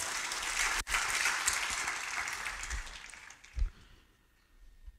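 A church congregation applauds a preacher's sermon, clapping loudly and continuously before fading away near the end.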